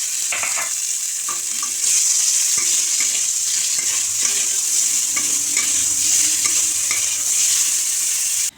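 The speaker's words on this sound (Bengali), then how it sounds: "এটা একটু তেলে এই যে ওই মাছ ভাজা তেলেই ভেজে নেব আগে কপিটা" Steamed cauliflower fries in a pan of oil left over from frying fish, giving a steady close sizzle with occasional stirring scrapes and no talking.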